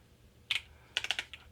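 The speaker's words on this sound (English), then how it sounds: "I'm typing with one hand" Typing on a computer keyboard with one hand: a single keystroke followed after a pause by a quick burst of five or six clicky taps, close and fairly quiet, no talking.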